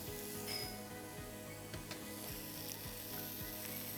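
Onion sizzles in a frying pan with a little oil while a buckwheat galette cooks, a steady, quiet crackling hiss with soft clinks and stirring sounds, no voices.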